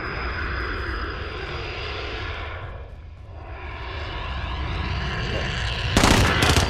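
A loud propeller airplane in a video game drones overhead, its engine swelling and dipping as it passes, then a sudden burst of gunfire cuts in at the end.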